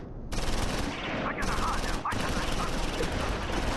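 Sustained gunfire rattles through a World War II battle in Close Combat IV, loud overlapping shots and machine-gun bursts running nearly without pause, with a brief dip partway through.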